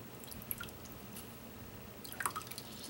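A foam sponge is wetted with water: faint, soft dripping and squishing with a few small wet splashes near the end, quiet and close, with no talking.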